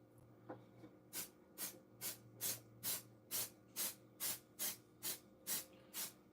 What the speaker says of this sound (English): Now what I have to do is I have to spray this into the channels.